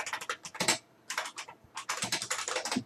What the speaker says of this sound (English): here I would just type in whatever my message is.